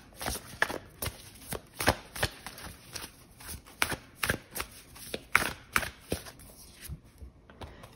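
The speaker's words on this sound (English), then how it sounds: "Let's pull an oracle card here." Oracle cards being shuffled by hand, a series of crisp riffling snaps and soft slaps in an uneven rhythm, close and fairly quiet with short pauses between bursts.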